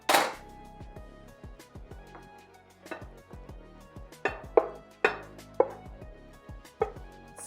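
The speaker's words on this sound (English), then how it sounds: "we're gonna take our sausage and vegetables and dump them into the baking dish" Pieces of chorizo sausage and vegetables tumble into a baking dish, landing as a series of soft, irregular thuds and clatters, close and fairly quiet, with no talking.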